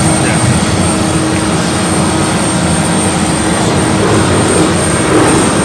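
Heard from inside the cabin of an aircraft on a humanitarian flight, the engines give a loud, steady drone as it slows down, with a thin high whine and no break in the noise.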